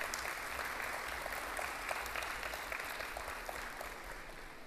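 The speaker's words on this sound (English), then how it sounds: "Please give yourselves a round of applause for making such a worthwhile decision." Audience at a university new-student orientation applauds, a dense, steady wash of many hands clapping that holds at even loudness throughout with no voices over it.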